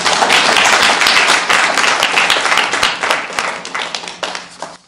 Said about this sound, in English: A round of applause for Mindy, folks.